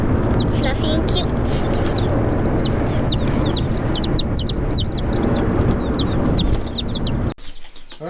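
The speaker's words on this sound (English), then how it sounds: "We have 5 Barnevelder chicks." Five baby Barnevelder chicks cheep constantly in a closed box, a close, busy chorus of high peeps with clucky undertones, and a voice talks over them before the sound cuts off sharply near the end.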